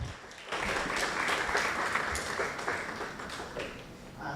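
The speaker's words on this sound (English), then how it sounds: "Let's give up a huge round of applause for Manish Advani." Audience applause for a speaker at a TEDx event on a university campus, a steady wash of many hands clapping at moderate, somewhat distant level, fading slightly toward the end.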